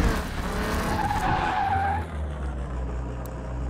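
A car in Car Mechanic Simulator 2021 on PS5 skids with a steady, loud tire squeal over continuous engine roar, with no talking.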